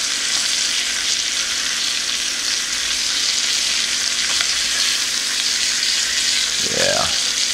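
Mahi-mahi fries in brown butter in a pan, a loud, close, continuous sizzle with a steady bright hiss; near the end a brief voice sound rises over the frying.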